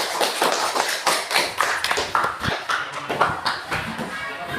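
A classroom of students applauds a student group after its presentation: dense, steady clapping from many hands, close and fairly loud throughout, with faint voices mixed in.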